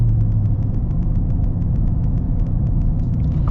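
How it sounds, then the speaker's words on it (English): Loud, close V8 exhaust burbling from a modified Ford Raptor R with the exhaust opened up, a rapid, steady pulsing throb and deep rumble, no voices. "open up the exhaust a little bit here"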